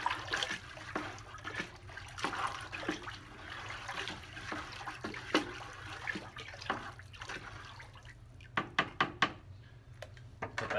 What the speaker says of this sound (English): So first step is to get my light rust. I'm going to mix it again.